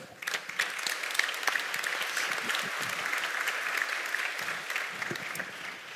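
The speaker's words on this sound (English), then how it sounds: "shouldn't we start giving them a hand of applause?" An audience claps to welcome four panel speakers at a conference, a full, steady applause with sharp individual claps standing out, sustained for several seconds before easing slightly.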